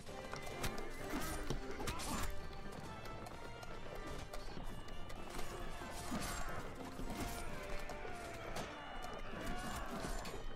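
Horses in the Warband video game gallop in a dense, continuous clatter of hooves, with repeated neighs and whinnies and occasional crashes of battle mixed in, loud and busy throughout.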